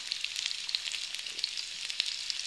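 Shallots and dried red chilies sizzle steadily in hot oil with mustard seeds for a Kerala drumstick tomato curry, a close, even crackle with scattered sharp pops.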